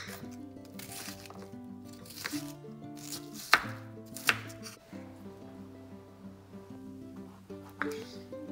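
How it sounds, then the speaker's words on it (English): A knife slices and chops an onion for eggplant chutney, a few quiet cuts and a couple of sharper knocks on the board over soft background music. "First slice it and cut them into pieces like this."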